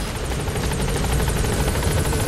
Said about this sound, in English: Helicopter. A landing zone.